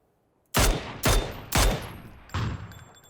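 Four sharp, loud gunshots from the game PUBG ring out in uneven succession, each followed by a brief echoing decay.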